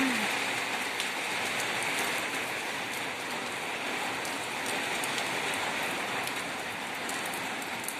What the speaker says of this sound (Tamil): காற்று மழை ஊற்றிட்டே தான் இருக்குது